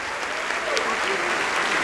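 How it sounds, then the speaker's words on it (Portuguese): Dense, steady applause from a church congregation, sustained and fairly loud throughout, with a few voices faintly mixed in. "Vamos aplaudir mais."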